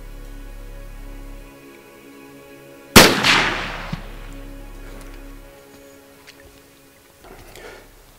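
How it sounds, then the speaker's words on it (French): A single loud rifle shot cracks out during a deer hunt on Anticosti, a sharp blast that rolls away in a decaying echo, followed by faint rustling and small knocks. "Je viens de prendre un beau shot, un beau tir sur un chevreuil"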